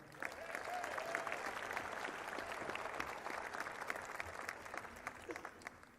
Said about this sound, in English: How about a nice, fine round of applause